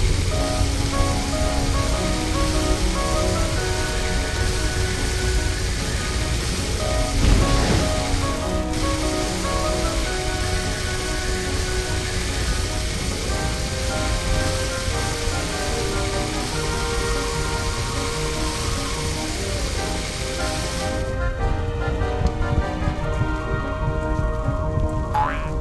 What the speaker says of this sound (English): Slide the water gun to put out this terrible fire